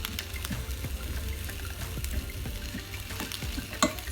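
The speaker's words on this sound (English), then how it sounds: "So I'm gonna saute the onions." Onions sauté in a pan with a soft, steady sizzle and crackle, punctuated by scattered clicks and scrapes of stirring, close and fairly quiet with no voices.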